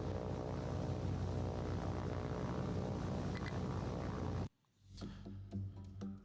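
Torpedo bomber aircraft in the naval war game War on the Sea drone with a dense, steady propeller-engine roar that cuts off abruptly, leaving quieter rumbling and faint clatter.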